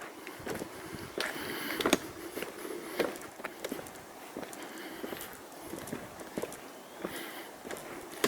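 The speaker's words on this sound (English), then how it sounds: "Acoustics are nice of just the footsteps." Footsteps cross a steel half-depth girder railway bridge at a steady walking pace, each step a hollow, ringing thud over a constant broad background hiss, with no talking.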